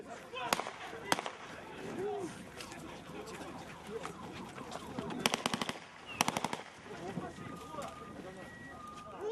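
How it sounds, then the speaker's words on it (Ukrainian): Several sharp gunshots fired into the air ring out, some in quick bursts, amid a noisy outdoor crowd of protesters with shouting voices, as police fire warning shots. "правоохоронцям довелося стріляти в повітря"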